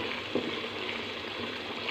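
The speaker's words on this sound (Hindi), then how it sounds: "अच्छे से मसाले को भून लेंगे।" Masala spices for chickpea curry frying in a pan, a soft steady sizzle with a faint stir scrape, low and continuous without talking.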